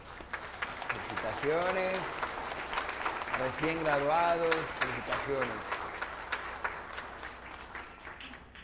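A church congregation at Pentecost Sunday Mass applauds newly graduated members standing for recognition; steady scattered clapping runs throughout while someone speaks over it.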